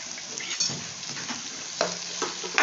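Vegetables lightly sautéing in a home kitchen pan for a lunch of sambar and fries, a soft close sizzle with the scrape and clatter of stirring now and then.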